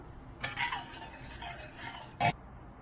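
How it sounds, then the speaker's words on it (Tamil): Fried chicken pieces are tipped into a simmering sauce and stirred, giving soft scraping and gentle bubbling followed by a sharp clink of a utensil against the pan near the end, close and fairly quiet. "இப்போ நம்ம பொரிச்சு வச்ச சிக்கன் எல்லாமே இதில் ஆட் பண்ணிட்டேன்."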